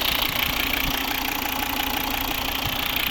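A 2013 Volvo V60 AWD's 2.4 D4 diesel engine idles steadily nearby, a loud, even rumble with a faint knocking rhythm and no voices.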